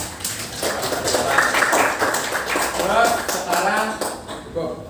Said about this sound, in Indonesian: Oke, tepuk tangan buat kita dulu.